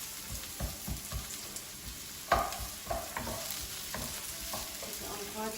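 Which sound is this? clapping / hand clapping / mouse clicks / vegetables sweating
vegetables sweating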